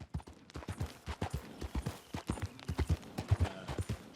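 Horse hooves in Red Dead Redemption 2 as a horse is ridden at an easy pace: a steady, rhythmic clip-clop of close, soft hoofbeats on hard ground, continuing alone throughout.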